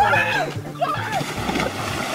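A splash into water from a played video game, with sloshing and splattering heard beneath loud, excited talk.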